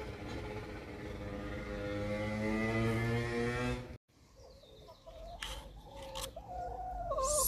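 Backyard chickens cluck in short, scattered bursts near the end, after a sustained, loud stretch of sound at the start.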